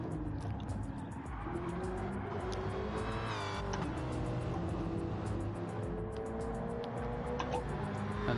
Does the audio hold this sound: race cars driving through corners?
yes